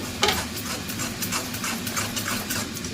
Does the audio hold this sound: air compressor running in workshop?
no